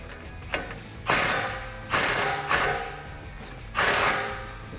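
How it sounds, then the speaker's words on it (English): A ratchet wrench with a 15 mm socket tightens an exhaust clamp on a Jeep Gladiator JT's Borla ATAK dual exhaust, giving several close, loud bursts of rapid clicking separated by short pauses. "this clamp also gets tightened down with a 15 millimeter socket"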